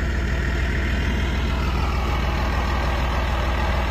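A John Deere 8100 tractor pulling a 1431 discbine through an oat and pea crop runs at steady load, a loud, continuous low engine drone with no speech.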